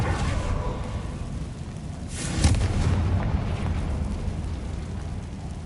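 A Confringo fire spell detonates in a Harry Potter video game, a loud rumbling blast over steady low game noise that swells briefly and fades back into a continuous roar.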